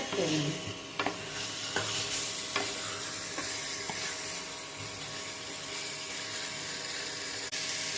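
Mutton and chopped onion stir-fried in hot oil in a pan, giving a steady close sizzle with scraping spoon strokes throughout, loudest at the start with a few sharp clinks.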